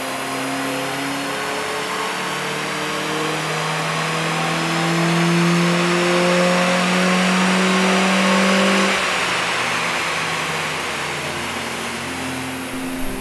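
A car on a dyno run revs up in a long, loud, rising engine sweep, peaks, then drops back to a steady high drone, heard close and alone.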